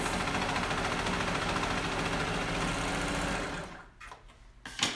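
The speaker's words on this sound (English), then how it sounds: "I still like to use my serger and then i just top stitch on top of that" A serger (overlock) sewing machine stitches fabric for a pillow with a loud, steady, close whir for about three and a half seconds, then stops, leaving a few faint handling knocks.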